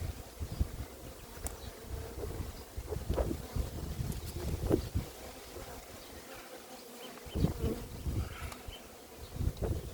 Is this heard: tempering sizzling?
no